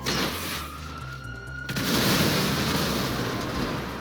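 Gunfire and explosions from the video game GTA V, a dense continuous rumble of booms and bursts with a rising whine, then a louder sustained blast-filled roar after the midpoint.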